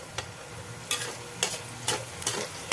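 Garlic sizzles in a pan while being stirred, a steady crackling hiss broken by several sharp scraping strokes of the utensil at close range.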